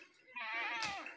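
A single goat bleats once, a short wavering call lasting under a second, fairly faint and somewhat distant.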